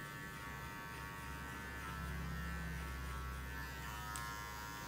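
An electric hair clipper with a number 2 guard cuts hair during a men's fade haircut, giving off a faint, steady close buzz with no talking.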